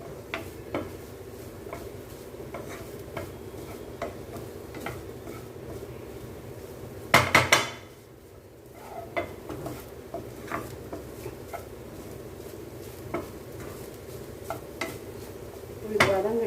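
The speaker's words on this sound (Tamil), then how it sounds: "நல்லா அந்த தேங்காயில் இருக்கிற ஈரப்பசை எல்லாம் போகட்டும் வதக்கிட்டு" Grated coconut and broccoli are sautéed in a pan for a broccoli pepper fry, with soft sizzling, intermittent spoon stirs and scrapes, plus one brief louder metallic clatter midway, close and moderate.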